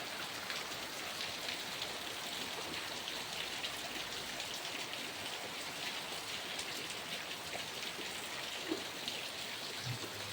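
Steady rain falls on and around a house with a roof where a motorbike is parked, a dense, even patter lasting throughout, moderately distant and without voices.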